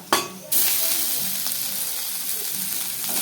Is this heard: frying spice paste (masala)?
yes